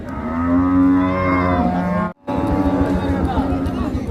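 A loud, drawn-out cow moo close by at a livestock market, then a short pause and further lowing amid the murmur of a busy crowd.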